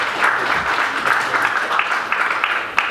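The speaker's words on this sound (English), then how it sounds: "So another round of applause for those of you who joined us." Audience applause at an Executive MBA masterclass, a steady dense patter of many hands clapping at moderate level, fairly close, holding evenly for a few seconds with no talk over it.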